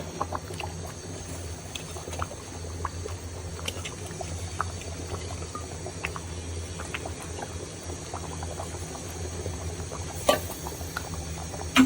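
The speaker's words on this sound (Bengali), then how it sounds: "এখন আমি মাংসের সাথে আলু আর পটলটা দিয়ে দিচ্ছি দেখুন" Potatoes and pointed gourd going into Qurbani meat cooking in a pot, producing a continuous low bubbling simmer with faint scattered clicks and splashes, steady and close, with no talking.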